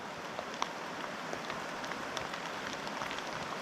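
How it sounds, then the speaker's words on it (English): Heavy rain falls in a remote Arctic forest, a dense, constant hiss of drops with scattered sharper patters and taps throughout, heard close and without any voices. "That rain hit so hard."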